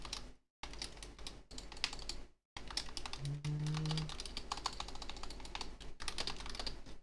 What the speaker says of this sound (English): Sorry if you hear my typing.